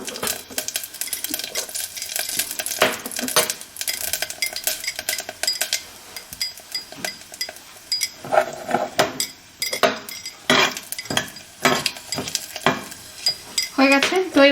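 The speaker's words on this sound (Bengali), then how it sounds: "তো এবারে আমি ফোড়নে দিচ্ছি হচ্ছে সাজিরে, তেজপাতা আর হচ্ছে একটা গোটা শুকনো লঙ্কা।" Cumin seeds, a bay leaf and a whole dried red chilli spit and sizzle in hot oil in a home kitchen, close and steady, with frequent metal clinks and stirring scrapes of a utensil against the pan.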